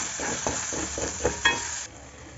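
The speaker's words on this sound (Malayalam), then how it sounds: "ഇനി ഇതിലേക്ക് നമുക്ക് രണ്ട് മുട്ട ഉടച്ചു കൊടുക്കാം നമ്മൾ രണ്ട് മുട്ട ഉടച്ച് ചേർത്തിക്കണം ഇനി നമുക്ക് പെട്ടെന്ന് ഇളക്കി മറച്ചിടാം" Two eggs are stirred in a hot pan, with a soft steady sizzle under a few scraping strokes of the spatula and a couple of sharper knocks, close and fairly quiet before the sizzle briefly drops.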